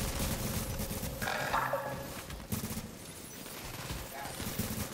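Rapid gunfire and bursts of shooting in Tom Clancy's The Division, a dense, noisy firefight that stays loud throughout with scattered sharper shots.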